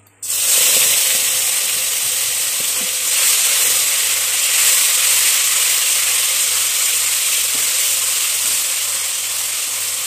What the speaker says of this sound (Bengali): এখন দিয়ে দিচ্ছি আমাদের টমেটো বাটাটা।